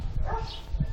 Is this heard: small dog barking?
yes